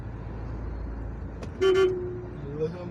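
A single car horn honk, short and fairly loud, over steady road and engine rumble inside a moving vehicle.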